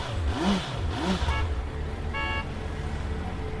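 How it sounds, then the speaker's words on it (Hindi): A motorcycle engine starts up and revs, with two rising tones early on, then a steady idle and a brief horn-like toot as it gets moving, fairly close. "कांस्टेबल राणा मोटरसाइकिल स्टार्ट करते हुए बोलते हैं"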